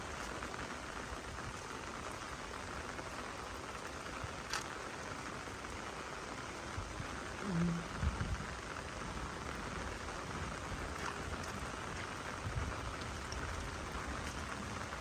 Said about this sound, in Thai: ฝนตกมาใส่พอดีเลยปลูกแล้ว